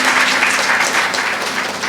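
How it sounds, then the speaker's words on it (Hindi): A gathering at a Manas Vyakhyan training camp at an ashram breaks into loud, dense, continuous clapping that stays steady throughout. "चलिए एक बार जोरदार ताली हो जाए"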